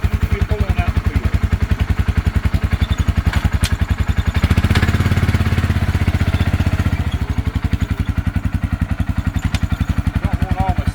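Small electric seed spreader spinning while driving across a field, heard under a loud rhythmic engine chug that dominates throughout, with a brief swell in the middle.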